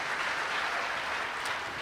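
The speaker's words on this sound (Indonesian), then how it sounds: "Kasih tepuk tangan dulu buat Tuhan." A church congregation applauds in praise of God, a dense, continuous wash of many hands clapping at once, steady and fairly loud throughout with no voices rising above it.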